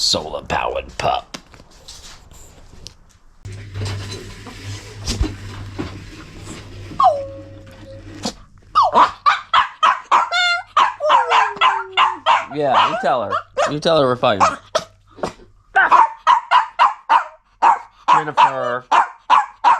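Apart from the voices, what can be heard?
dog barking and howling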